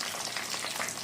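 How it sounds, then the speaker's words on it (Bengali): Eggplant pieces fry in hot oil without turmeric or salt, giving a steady, dense sizzle that fills the short stretch alone, with no talking. "আমাদের বেগুন ভাজা কিন্তু চলতেছে"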